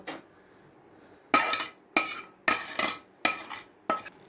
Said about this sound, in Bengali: এইভাবে মা ডাল ঘুটুনি দিয়ে এটাকে মানে পাল্পটা বার করে নিচ্ছে এই গামলায়